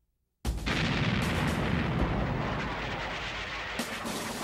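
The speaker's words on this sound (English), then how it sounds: "This time, the assignment is the shelling of the Japanese-held island of Iwo Jima." Battleship artillery shelling the Japanese-held island of Iwo Jima in World War II, heard as a sustained loud roar of heavy naval gunfire that bursts in after a short silence and rumbles on without a break.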